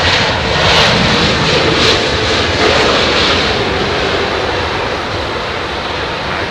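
A landing airliner at London Heathrow in low visibility roars with jet engine thrust reversers, a loud, sustained broadband rush that holds steady and eases slightly toward the end.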